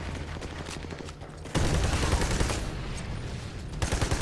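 Rapid automatic gunfire from the co-op shooter game Army of Two: The Devil's Cartel, dense bursts that swell louder partway through and keep crackling steadily without a break.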